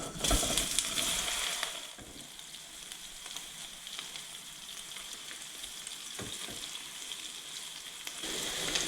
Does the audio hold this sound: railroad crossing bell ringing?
no